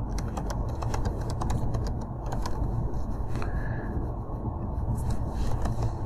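Computer keyboard typing in quick, irregular bursts of clicks while instructions are entered, steady and fairly close over a constant low background hum.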